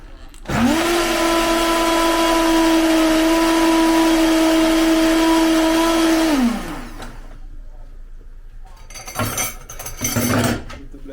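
A kitchen blender runs loudly and steadily for about six seconds, its motor whine holding an even pitch, then winds down and stops, followed by a few brief clatters and rustles.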